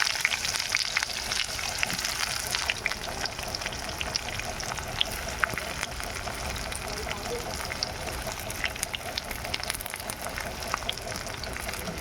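Chopped onion frying in hot oil in a pan with cumin seeds, giving a steady, dense crackling sizzle that carries on without a break from start to finish.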